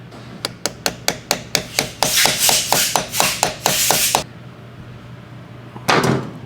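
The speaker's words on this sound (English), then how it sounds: "Take a lightweight hammer and we're just gonna" Metallic taps from a lightweight hammer on a bearing ring out in a steady run, a dozen or so sharp strikes, then a burst of harsh scraping and one final clattering noise.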